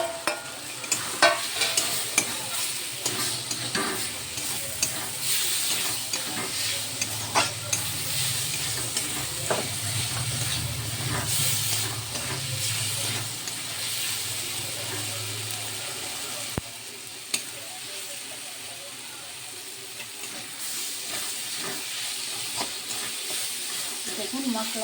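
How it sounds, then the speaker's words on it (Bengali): Bitter gourd stir-fried with masala in a pan, a constant close sizzle with repeated spatula scrapes and knocks throughout, and a brief low hum partway through. "এবার মশলাটা ভালো করে আমি কষিয়ে নেব। এবার ভেজে রাখা করলাটা দিয়ে দেবো।"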